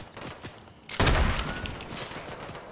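A single heavy boom from a lever-action sniper rifle in a video game cracks out at once, loud and close, then rolls away in a long echoing tail.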